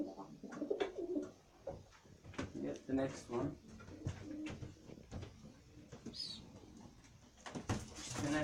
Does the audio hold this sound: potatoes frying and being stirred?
no